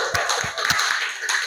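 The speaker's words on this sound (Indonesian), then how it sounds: "tepuk tangan lagi untuk kelompok" A classroom group of participants claps together, a short burst of brisk, fairly close applause lasting about a second and a half with no talk over it.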